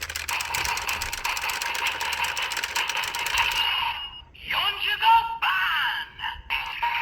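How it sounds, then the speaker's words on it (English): Crank being turned on a Super Sentai toy blaster with Avataro gears, a dense rapid mechanical ratcheting whir for about four seconds, then scattered clicks and short electronic toy tones. "then you turn it by twisting this this crank"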